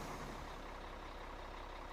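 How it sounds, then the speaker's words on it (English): A truck in Farming Simulator 2013 gives off a steady, low engine drone with broadband rumble, quiet and unchanging throughout. "I guess our truck has made it."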